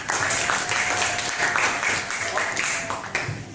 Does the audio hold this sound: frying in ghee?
no